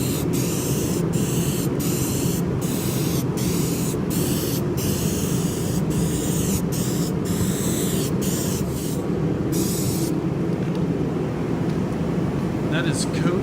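A spray paint can lays down a third coat on a truck in rhythmic bursts, each pass a loud close hiss broken by brief gaps, with a voice speaking over it.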